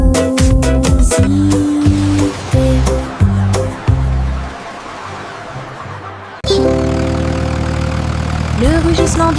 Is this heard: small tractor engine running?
yes